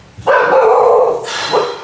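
A dog gives one loud, drawn-out bark that trails into a second shorter yelp, close by, with no voices over it.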